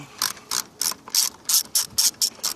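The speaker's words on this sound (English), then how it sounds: "Take that 10mm socket again, and as you can see, there's another clamp on this other side with the boot here. We'll loosen that one up." Eight quick bursts of ratchet clicking as a 10mm socket loosens a hose clamp on the airbox intake boot of a 2002-2006 Lexus ES300/ES330 or Toyota Camry, evenly spaced and close, with no one talking.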